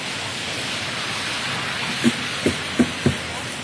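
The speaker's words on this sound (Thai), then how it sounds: "บรรยากาศฝนตก" Steady rain falls in front of a house at dawn, a dense, even hiss throughout, with a few brief soft knocks near the end.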